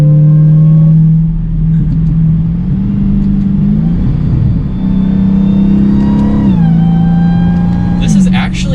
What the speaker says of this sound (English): You almost hear more of the supercharger whine than you do the exhaust.